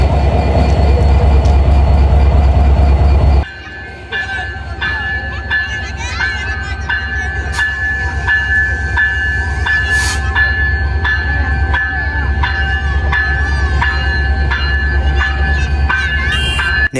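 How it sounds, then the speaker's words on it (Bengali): Bangladeshi diesel locomotive 6636 of the 66 series hauling a train on the Dhaka–Benapole route, a loud steady engine rumble and rolling clatter after a sharp drop in level near the start, continuing up close throughout. "নেতৃত্বে রয়েছে লোকোমোটিভ ছেষট্টি ছত্রিশ এই টং টং আওয়াজটা যারা ছেষট্টি সিরিজের আওয়াজটা শুনতে বেশি পছন্দ করেন"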